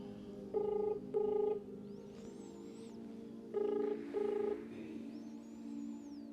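Phone keypad tones beep in two pairs of quick presses, each pair followed by a soft ringing tone, all fairly quiet with no talking.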